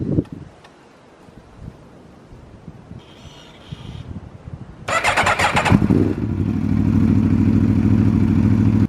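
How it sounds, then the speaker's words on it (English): A 2017 BMW S1000RR liter sport bike cold-starting in a garage: quiet fumbling, a brief starter whir, then the inline-four catching with a loud bark and settling into a steady, close, rumbling idle. "So we can grab a cold start on that and get on the way."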